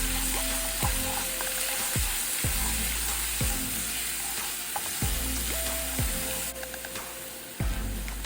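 Garlic and red pepper flakes sauté in oil with a steady, close sizzle. Sharp, regular scraping strokes of a utensil recur about once a second against the pan.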